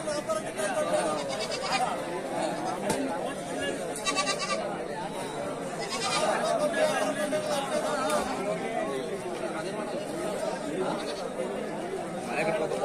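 Young goats bleat repeatedly in short, wavering cries at a sheep and goat market in Tumakuru, amid busy crowd chatter and people talking nearby.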